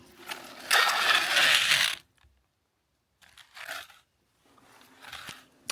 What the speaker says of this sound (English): Now I simply push it backwards like a real wind-up toy car.